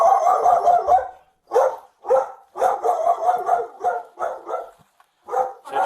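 A dog barking repeatedly and loudly nearby, in short bursts with brief pauses between, with no talk over it.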